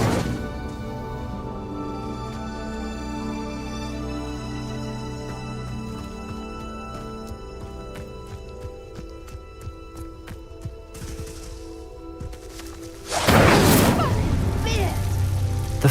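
In Hogwarts Legacy, the Incendio fire spell goes off as a sudden loud whooshing burst of flame near the end, after a stretch of calm game music.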